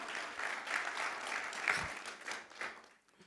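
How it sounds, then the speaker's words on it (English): A launch-event audience gives a round of applause, quiet and somewhat distant, swelling and fading over a few seconds before trailing off. "So let's give her a massive round of applause."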